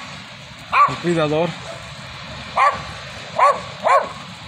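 A dog barks in short bursts outdoors in cold Colorado: a single bark, a longer whining yelp, then three more separate barks spaced about a second apart, loud and near, with a person talking around them.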